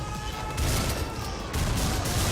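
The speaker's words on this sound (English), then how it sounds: "a lot of the enemies shooting at you" Enemy gunfire rattles in the video game Butcher as a dense, continuous barrage of shots and blasts. It is loud and chaotic, with no pauses.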